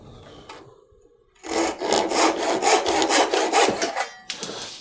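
A hand saw cuts through a wooden pin for a side table, rapid rhythmic back-and-forth strokes close up, starting after a quiet pause and ending with a few light scrapes.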